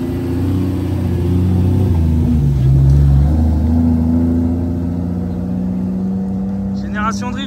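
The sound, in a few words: drift cars with engines revving at Croix-en-Ternois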